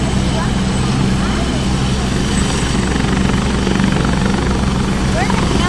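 A helicopter making a rescue landing in Wan Chai, Hong Kong, with its rotor roaring loud and steady, close by, throughout, and a bit of voice faintly underneath.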